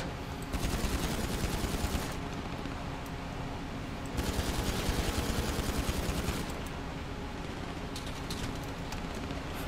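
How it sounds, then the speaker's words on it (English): An unseen enemy fires on the player in a video game, producing two rapid bursts of automatic gunfire a couple of seconds apart over a steady background of game ambience. "Someone shooting at me from somewhere else."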